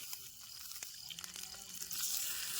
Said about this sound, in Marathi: अगोदर तेल सोडलं आणि त्यात लगेचच ह्या बोट्या तळून घ्यायच्यात